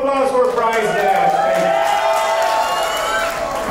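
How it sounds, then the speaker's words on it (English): Wedding guests at a baraat cheer and whoop with applause for the bride's father, a loud sustained crowd roar with voices rising over it. "Give him a big round of applause for Bride's Dad"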